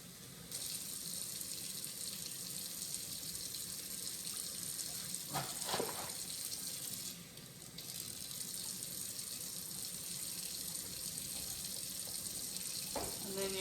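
Tap water runs steadily into a measuring cup in a home kitchen, a continuous close hiss with a couple of brief clinks partway through.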